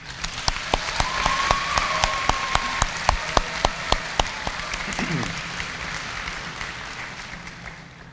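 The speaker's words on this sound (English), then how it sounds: "Let's give them a round of applause." Applause rises from the audience at a high school graduation ceremony, a moderate spread of clapping marked by sharp, regular individual claps standing out near the front, gradually thinning toward the end.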